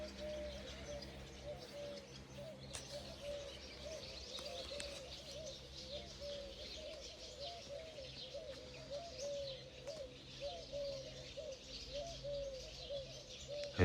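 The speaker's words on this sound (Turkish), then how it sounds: "Hele ki şu kumruların sesi" Turtle doves coo in a rural village in the morning, soft repeated calls in a loose steady rhythm at a distance over faint background hum, with no talk.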